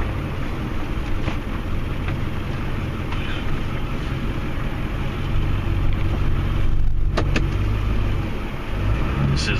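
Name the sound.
plow truck engine maneuvering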